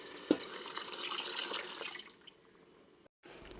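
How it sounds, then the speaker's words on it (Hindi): Leftover mutton stock water is poured into a cooking pot in a home kitchen, a continuous splashing pour that begins with a brief clatter, tapers off and ends with a short gap and soft thud, with no talking. "अब जो बचा हुआ पानी है ना मटन का, सारा पानी ऐड कर दूंगी ये।"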